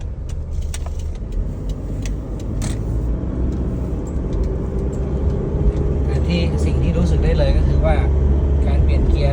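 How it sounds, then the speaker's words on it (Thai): A car on a test drive just after a gear oil flush, its engine and road rumble steady and close throughout, with a faint rattle and some talk inside the cabin. "เรามาทดสอบการขับรถกันดูนะครับ"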